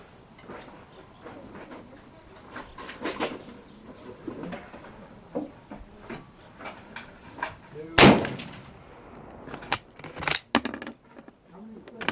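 Rock Island M1903 bolt-action rifle fired outdoors, a few sharp loud cracks spaced seconds apart, the strongest near the middle, with metallic clinks and handling noise between shots.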